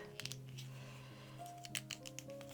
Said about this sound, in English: I'm going to cut some of my Soft Flex